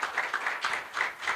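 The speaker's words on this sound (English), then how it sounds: "please can we give them a round of applause, ladies and gentlemen" Applause at an awards luncheon honouring African achievers, heard as a brief burst of many hands clapping at moderate distance, steady and uneven in rhythm.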